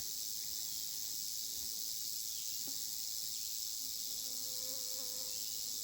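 A rattlesnake rattling on a hiking trail gives a continuous, loud, high buzzing hiss that stays unbroken throughout, with faint rustling and other background sounds underneath.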